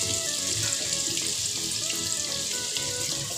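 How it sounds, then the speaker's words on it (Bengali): Cabbage and potatoes frying in a pan, a dense, continuous sizzle with steady crackling and light stirring, close and even in level throughout, with no voices. "বাঁধাকপিটাকে লাল লাল করে, আলুটাকে লাল লাল করে ভেজে নেব"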